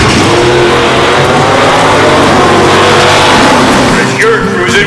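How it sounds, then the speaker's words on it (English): Classic cars and hot rods at an outdoor car show, engines running and revving together in a loud, continuous rumble that stays steady throughout, with voices mixed in underneath. "start your engines"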